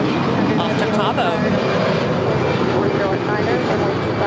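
Alaska Airlines A320 at LAX, about ten years old, its engines a steady loud roar at takeoff power that fills the whole stretch, with talk over the top.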